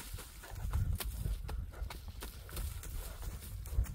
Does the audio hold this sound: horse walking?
yes